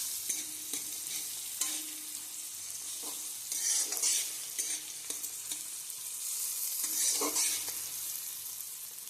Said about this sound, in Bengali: সবকটা মশলা দিয়ে আবারও ভালোভাবে আমি নেড়ে ছেড়ে একটু ভেজিটেবলসগুলোকে ভেজে নিচ্ছি।